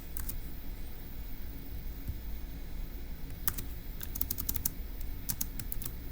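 Keys clatter on a computer keyboard while notes are typed in a quiet room, with soft scattered clicks at first and then several quick clustered bursts of keystrokes over a steady low hum.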